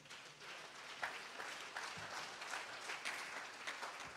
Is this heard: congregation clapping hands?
yes